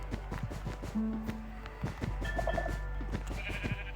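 Sheep in Minecraft bleat in short calls over a busy game soundscape with rapid tapping footsteps and scattered chimes, the bleats close and moderately loud.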